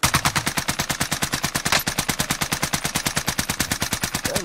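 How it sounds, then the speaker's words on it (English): Heavy, rapid gunfire in a video game shooter, a relentless fast rhythmic burst of loud, closely spaced shots running the whole time with no pause or talk. "That was a big ass sniper."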